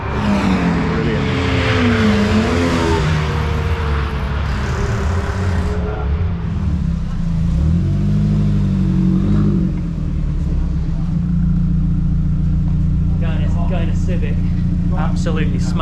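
Race cars lapping Oulton Park circuit with a Ford Escort's engine among them, loud sustained engine drone with rising and falling revs as cars pass, people talking over it near the end.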